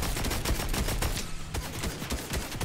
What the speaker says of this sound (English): somebody's shooting at us from behind me